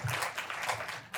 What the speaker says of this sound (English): we should give Andy a round of applause for actually supporting her